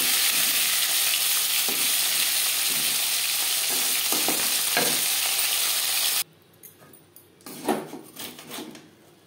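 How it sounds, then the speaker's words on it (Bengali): Fish frying in oil in a pan for a Bengali-style fish curry, a steady loud close sizzle for several seconds with a few clinks, then a quieter stretch with scattered bursts of sizzling as the pieces are turned. "একটা সাইড ভাজা হয়ে গেলে অপর সাইডটা উল্টে দেবে।"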